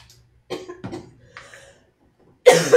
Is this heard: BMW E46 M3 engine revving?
no